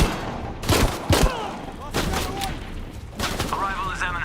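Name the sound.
gunfire in video game Shadow of the Tomb Raider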